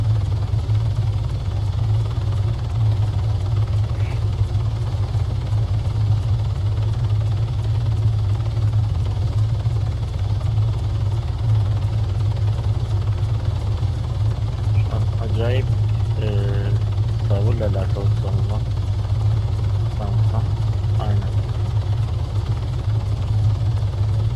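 Helicopter engine in the ARMA 3 military game, a loud, constant low rotor drone running steadily throughout, with brief bursts of talk over it midway.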